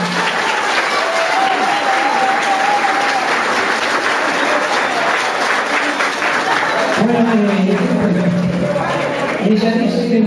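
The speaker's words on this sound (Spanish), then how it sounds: "Un fuerte aplauso para los chiquillos." An audience at a community event in Lascano applauds children: dense, steady clapping from a crowd carries on at full volume, then thins slightly as a few tonal voices or music cut through toward the end.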